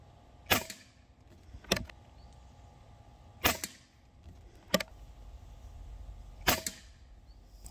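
Five sharp shots from an Umarex Gauntlet 2 PCP air rifle fired outdoors, each a crisp snapping crack at an uneven pace of about one per second, with quiet background hum between them.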